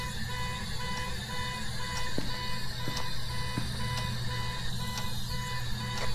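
Steady reversing beeps from a car inside the ghost-hunting game Phasmophobia, evenly spaced tones repeating about once a second over a low engine hum, moderately faint and heard alone.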